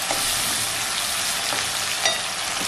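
Raw vegetables and crispy chilli chicken sizzle steadily in a hot pan while being stirred, a continuous close frying hiss with faint scrapes of the spoon.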